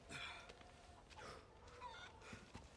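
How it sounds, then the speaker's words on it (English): A chicken clucks repeatedly in the village of Resident Evil 4, a soft series of short, choppy clucks and squawks at a steady rhythm, fairly faint and heard alone without talk. "Can I kill the chicken?"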